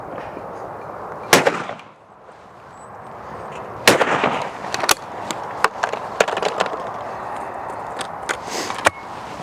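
Shots from a Beretta 690 Black Edition shotgun at outdoor clay shooting: several sharp, loud reports spaced a few seconds apart, each with a short echoing tail over a quiet outdoor background.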